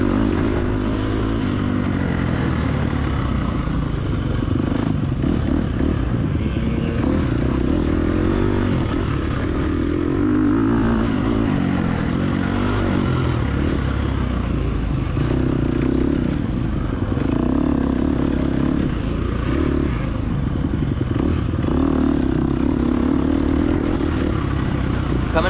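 Dirt bike engines race on an off-road hare scramble course, including a big 4-stroke, giving a continuous loud motor drone that rises and falls with revs for the whole stretch, with no talk over it.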